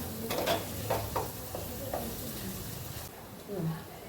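Crab curry fries in oil in a pan with a steady sizzle, nearby, while a spoon stirs and scrapes in several strokes.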